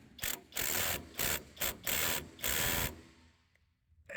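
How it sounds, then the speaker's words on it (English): Impact driver on a long doubled-up extension running an 18mm nut tight on a suspension drop kit install, several loud close rattling hammer bursts in quick succession, then quiet. "use an impact driver to run it tight"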